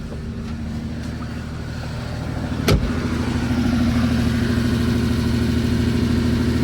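A 1982 Porsche 930 Turbo engine runs steadily at idle, close and loud, with a brief sharp knock near the start and a low, even rumble that swells slightly and holds to the end.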